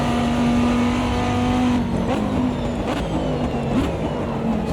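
An 8-liter V10 in a Viper GTS-R race car from the 2005 ALMS season, in the Automobilista 2 sim on a damp track, drones loud and steady at high revs with small shifts in pitch and no talk over it.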